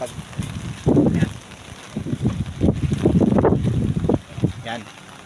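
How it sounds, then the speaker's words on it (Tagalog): Strong typhoon wind buffets the microphone in loud, gusty rumbles outdoors beside a local government store during stormy weather, with someone talking over the roar throughout. "lakas ng hangin mga kasipag"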